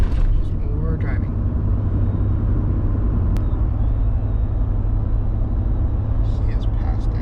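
Steady low road rumble from inside an RV cruising on the highway near Pocono Mountain, loud and unbroken throughout, with faint higher noises drifting over it.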